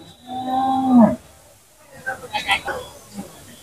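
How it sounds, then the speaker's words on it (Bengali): A large cow at a Naogaon cattle market lets out one deep, drawn-out moo up close, followed by quieter mixed market noise and indistinct voices. "দেখেন কত বড় বড় গরু, 1 লাখ টাকায় বিশাল বড় বড় গরু।"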